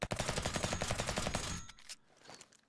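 Rapid gunfire from a hell weapon in the video game Revulsion: a fast, loud burst of evenly spaced shots lasting about a second and a half, then fading into reverberating echoes and a few quieter trailing sounds.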